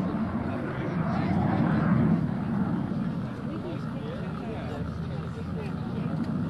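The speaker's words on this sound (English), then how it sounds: "Approaching the runway from the right, Commander Bartlett is confirming that the landing checks have been completed, and in fact, each aircraft is ready to land." US Navy Blue Angels jets approaching the runway to land at an airshow, a broad, distant roaring rumble under an announcer's continuous commentary.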